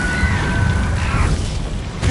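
The Incendio spell in Hogwarts Legacy bursts out as a loud, close fiery whoosh with a booming, crackling burst that fills the moment and ends abruptly.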